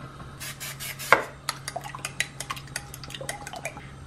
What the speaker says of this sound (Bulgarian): Сега разбъркваме яйцата.